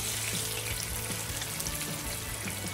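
Meatballs browning in a pan on medium heat, a soft steady sizzle with faint clinks and scrapes as they are turned.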